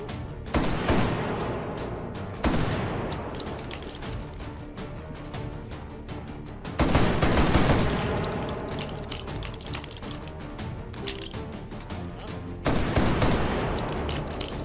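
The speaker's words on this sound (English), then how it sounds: "The L85 is my favorite British burst firing bullpup." L85 bullpup rifle in H3VR, a virtual reality shooting game, firing dense rapid bursts and sustained volleys with mechanical clatter, loud and continuous, several heavier onsets marking new strings of fire.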